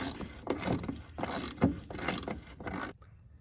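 A ratchet clicks in quick bursts, loosening a shackle bolt on a Jeep XJ Cherokee, several close, sharp runs of ratcheting over about three seconds with no talking.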